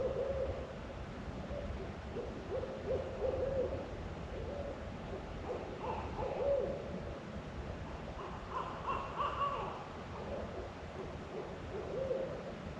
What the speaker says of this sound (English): I also heard an owl in the distance